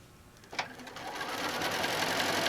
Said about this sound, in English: So I'm sewing from the lining part.